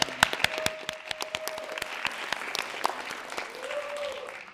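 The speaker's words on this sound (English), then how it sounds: "And I think she's telling her students to clap." Students at a youth film festival clapping together, a burst of sharp, distinct claps from a small group that settles into lighter scattered applause, with a faint tonal hum in the background and no talk.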